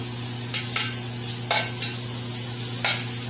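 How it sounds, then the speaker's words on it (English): Meat browning in a white pan gives a steady sizzle with a constant low hum underneath, broken by a few short scraping stirs. No one speaks. "I'm just going to get this browned up in a pan"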